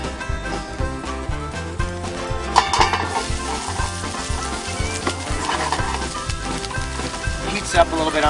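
Peppers fry in a little oil alongside eggplant in a pan on a burner, with a steady close sizzle broken by stirring scrapes and clinks of the utensil against the pan.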